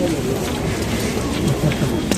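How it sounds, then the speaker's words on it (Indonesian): Steady rain falling on a busy street leading to Hagia Sophia in Istanbul, a dense continuous patter with crowd voices and talk mixed in throughout. "walaupun hujan."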